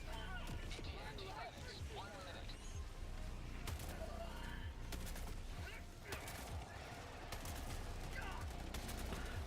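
Gunfire in the co-op shooter Helldivers 2: scattered bursts and sharp shots among game noise and distant impacts, moderately loud, with a person talking over much of it.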